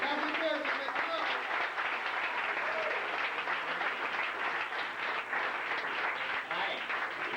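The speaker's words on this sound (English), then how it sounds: "Please welcome to the stage with a warm round of applause, Mr. Matthew Pearson." Sustained audience applause with cheering welcomes a comedian to the stage at a stand-up comedy audition, a dense, steady wash of clapping filling the room for the whole stretch, with voices mixed into the crowd noise.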